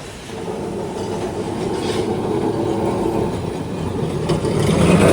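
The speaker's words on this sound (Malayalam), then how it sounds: "നമുക്ക് പോകാനുള്ള ട്രാം കടന്നു വരികയാണ്." Kolkata tram approaching a stop, a low rolling rumble with faint rail rattle that steadily grows louder as it nears, no speech.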